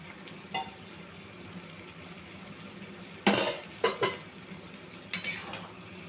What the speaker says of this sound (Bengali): এটাকে আমি ভালো করে মিশিয়ে নেব চিংড়ি মাছের সাথে।